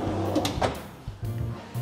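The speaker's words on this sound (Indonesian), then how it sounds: "Di sini laci biasa." A plain drawer in a modern minimalist cabinet slides and bumps several times in quick succession, close and fairly loud, with a few soft knocks between the movements.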